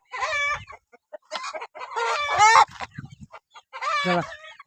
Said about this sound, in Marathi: आता आपल्याकडं फायटर जातीचे म्हणजेच हासीलचीच कोंबड्या आहेत काही.